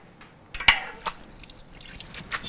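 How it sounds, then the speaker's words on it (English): Water drips and splashes as cooked pasta for pasta fagioli is drained in a home kitchen, a few sharp close drops and spatters followed by a quieter trickle. "drain the pasta real quick."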